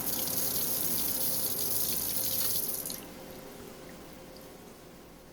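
Water runs loudly from a tap while a chicken is washed clean of dirt, a steady splashing rush that cuts off abruptly partway, leaving faint trickles and quiet room sound.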